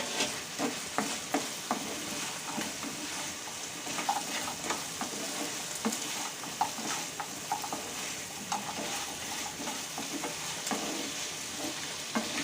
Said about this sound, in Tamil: சாஸ் ஊற்றிட்டு இந்த பொரிச்ச இட்லியெல்லாம் அதில் போட்டு மிக்ஸ் பண்ணிக்கணும்